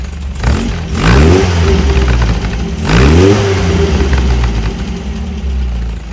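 A car engine revs twice through its exhaust, with a center resonator in the system, rising and falling in deep throaty bursts, settling to a steady idle between and after.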